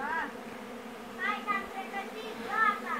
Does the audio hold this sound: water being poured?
no